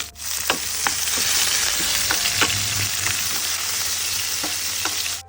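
Onions hit hot oil already tempered with cumin, fennel seeds and leaves for a mutton varuval, giving a steady close sizzle with scattered crackling pops and occasional stirring scrapes, no voices.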